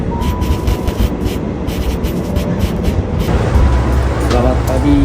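A commuter train bound for Bogor rumbles steadily throughout, with rail and carriage noise that grows heavier toward the end. Voices and general crowd sound mix in under it.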